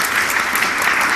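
Audience applause, a dense, steady burst of clapping filling the whole short moment.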